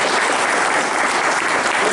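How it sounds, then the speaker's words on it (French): Audience applause at a French dog show and working-trial event, steady dense clapping filling the whole stretch at close range, with no voices above it. "On peut l'applaudir."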